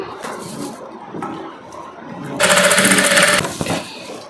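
A sewing machine runs in one steady burst through the middle of the clip while joining a garment's shoulder seam, loud and close, with quieter handling noise and faint background before and after.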